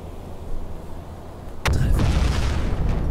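A torpedo strikes a C3 cargo ship in the submarine game UBOAT: low rumbling ambience, then one sudden loud explosion boom that rolls on as a heavy, sustained roar.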